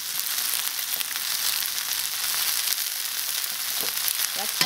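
Steady close sizzle as sweet potato vines and chili stir-fry in a wok of hot oil, continuous and bright, with a few scraping stir strokes near the end.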